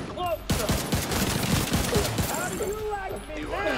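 Blind-fire bursts in The Division 2, played on PS4: rapid, loud automatic gunfire with sharp repeated shots, mixed with voices talking and game sounds.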